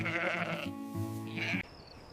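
A sheep bleating at night, one long wavering call close by, loud and alone, with a faint high tone lingering afterward.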